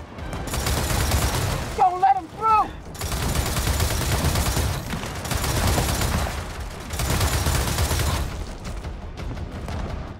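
Heavy rifle fire in the shooter game Gears of War 4, sustained loud bursts of gunfire rolling through most of the clip with brief gaps, and a short tonal game cue or voice around two seconds.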